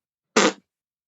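A voice imitates a parp fart with a single short, buzzy raspberry blown through the lips, loud and close, alone against silence.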